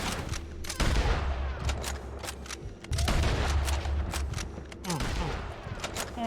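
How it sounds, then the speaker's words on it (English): Bolt-action rifle shots boom in Red Dead Redemption 2 amid a gunfight, several heavy, spaced reports mixed with other gunfire and game voices. "Bolt action rifles, love it."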